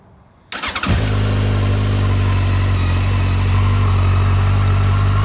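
A 2012 Yamaha FZ1 motorcycle engine with stock exhaust fires up after a brief quiet moment and settles into a steady, loud idle with a deep, even rumble.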